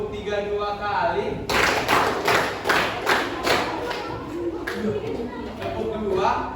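High school students in a classroom clap hands in unison during a counting game, a string of crisp group claps in quick succession after a teacher's voice, with talking resuming as the claps fade.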